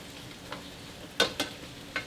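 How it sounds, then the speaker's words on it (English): Onions frying in a pan, a soft steady sizzle with a few sharp crackles and pops from the pan, close and fairly quiet, with no voices. "Hear that sizzle?"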